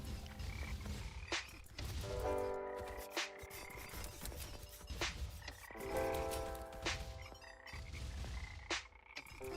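Frogs croak repeatedly in a video game built with the Godot engine, a dense, layered chorus of croaks pulsing in waves alongside bright game sound effects, with no voices.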